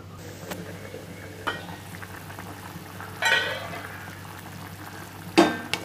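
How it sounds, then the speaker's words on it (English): Tinda tamarind gravy keeps bubbling in a mud pot after the gas is switched off. A low steady simmer runs throughout, broken by a few brief louder bubbling or stirring bursts. "even after switching off the gas, you can still see that it boils"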